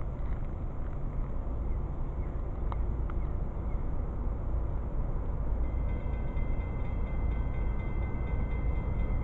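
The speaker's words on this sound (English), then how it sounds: "here comes another train" A railfan-observed train passing by, a continuous broad rumble of rolling wagons that holds steady for several seconds, with a few sharp metallic clanks and wind buffeting the microphone.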